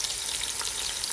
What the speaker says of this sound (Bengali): পেঁয়াজগুলো আমরা ভাজবো।